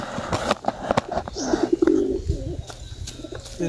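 Pigeons at a loft trapdoor giving soft throaty coos close by, mixed with wing rustles and knocks.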